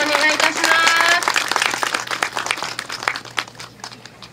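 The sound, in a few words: audience applause for Mr. Takayama at a bike forum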